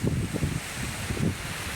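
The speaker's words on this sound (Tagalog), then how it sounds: "Kaya ganito malakas ang hangin." Strong typhoon wind gusting steadily and roaring, a broad noisy rush buffeting close to the microphone with no voices.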